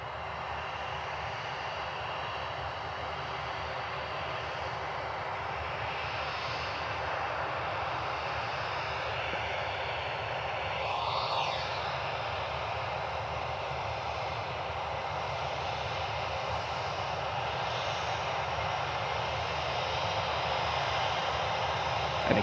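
A United Airbus A320 airliner taxiing for departure at Cleveland Hopkins airport, its engines giving a steady, loud broadband whine and rush that swells slightly over the span.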